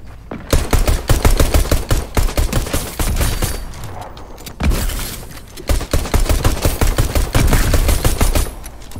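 Rapid pistol gunshots in a video game during a pistol-only challenge, loud close bursts of sharp repeated shots in quick strings with brief pauses between volleys.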